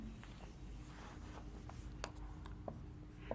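Pen strokes on a writing board during a mathematics lecture on ratios, soft scratchy marks with a few sharper taps, faint and close over a low background hum, without talking.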